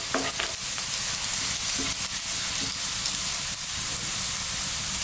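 Garlic sautéing in a pan for squid adobo gives off a loud, continuous broadband sizzle, with a few sharp scrapes of stirring near the start and midway, close up and with no voices.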